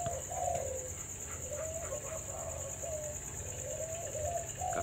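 Young Malay pigeons of a cooing bloodline, roughly three months old, give repeated soft low coos in short phrases over a steady background hum, close by, with no voices.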